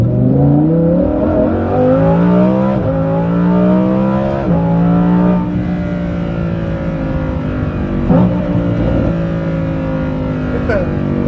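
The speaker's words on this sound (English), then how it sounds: "in Corsa, which is race, the only mode you should be driving this car in, it's really loud" A Lamborghini Huracan Performante with a Kline Innovation Valvetronic exhaust, in Corsa race mode, roars up through several gear changes, each shift dropping the pitch before it climbs again, with crackles near the end.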